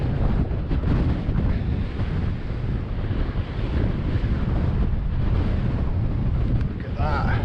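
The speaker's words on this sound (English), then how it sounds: "Wow, it's really windy. Measured 30-mile-an-hour gusts." Strong wind, gusting to 30 mph in the Scottish Northwest Highlands, roars and buffets against the microphone in a continuous rumbling rush, swelling and easing in gusts.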